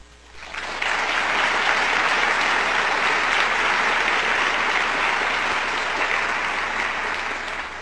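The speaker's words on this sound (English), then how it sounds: "I should have said hold your applause to the end, but now it doesn't matter." Sustained audience applause in a hall fills the whole stretch, a dense, steady wash of many hands clapping that swells in at the start and holds loud throughout with no speech over it.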